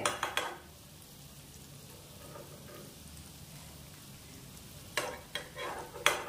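Vegetable chops fry in hot oil with a soft continuous sizzle, while sharper clatters of stirring and utensil contact come at the start and again near the end.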